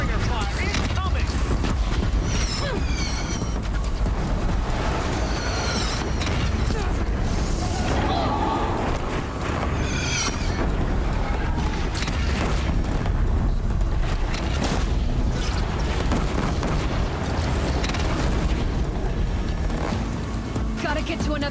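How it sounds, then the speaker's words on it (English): Deathbringer machine fire in Horizon Zero Dawn: dense, rapid bursts of heavy gunfire and explosions roar continuously up close, with game voices talking over the chaos. "Deathbringer fire incoming!"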